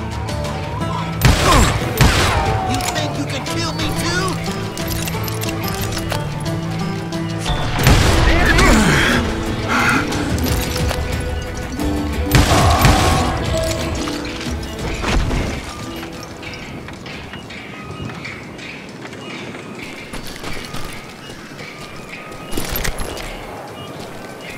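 Gunfire and booming impacts from the Western shooter video game Call of Juarez: Gunslinger, with scattered loud shots and crashes through a dense, continuous battle mix; no talking.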